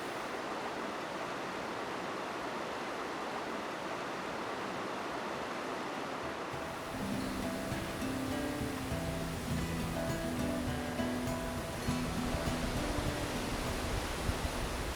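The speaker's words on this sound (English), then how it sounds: "This time here we are at the Bridalveil Falls" Bridalveil Falls in Yosemite Valley pours in a steady, broad rush of falling water in winter, the roar filling the whole stretch without a break and growing fuller and busier partway through, with no talking.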